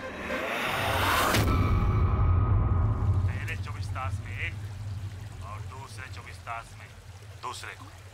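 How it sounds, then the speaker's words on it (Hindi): Water rushes and pours steadily in the background, loud at first then settling, while a person speaks over it. "पानी पानी की आवाज लगती है"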